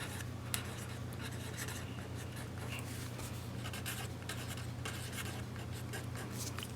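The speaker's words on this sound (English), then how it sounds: "I'm going to write on here that this is page 41." Pen or pencil writing a page number on paper in a workbook, a soft continuous scratchy rub over a steady low hum, close and fairly quiet, with no talking.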